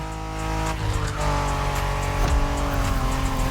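A Honda NSX, a 90s sports car, drives in The Crew Motorfest, its engine roaring loudly with rising and shifting revs, a burst of tire squeal and road noise, no talk.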